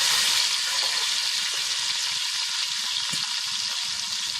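Mutton pieces hit hot oil with a loud, steady sizzle, a dense bright frying hiss lasting throughout, with faint stirring and clatter underneath and no talking.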